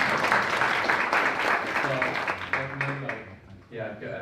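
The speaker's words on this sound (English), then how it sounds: "Round of applause." An audience at a UK ISSA leaders' panel event applauds in a steady, dense wash of clapping that fades toward the end, with a voice speaking over it.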